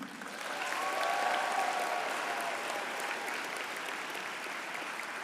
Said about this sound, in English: A big round of applause for Team UV